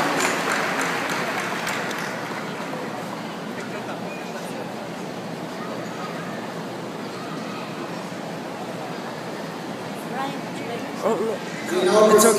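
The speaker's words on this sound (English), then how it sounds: "Once again, a round of applause for our speaker, Honorable Grace Coleman." A graduation ceremony audience applauds a speaker, with a steady, moderately loud wash of clapping across a large hall that swells briefly near the end.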